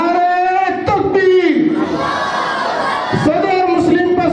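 A crowd at an Islamic jalsa shouts slogans in unison, greeting Maulana Khalid Saifullah Rahmani, president of the Muslim Personal Law Board. Loud, close massed voices rise in rhythmic call-and-response bursts.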